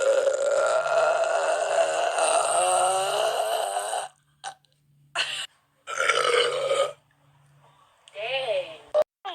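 A girl lets out a long, loud, drawn-out burp close to the microphone, followed by a few shorter gulps and burps, ending in another croaking belch.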